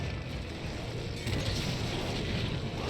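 Rapid bowgun shots fired in Monster Hunter 3 Ultimate while fighting Barioth, a steady dense volley of booming blasts layered over constant rumbling battle noise, with no pause for the whole burst.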